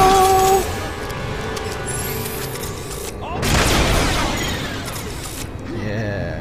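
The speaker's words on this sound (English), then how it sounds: "Sniper rifle!" Sniper rifle fire in a Transformers video game, with a loud burst of shots and booms around the middle over steady game sound, and a voice heard along with it.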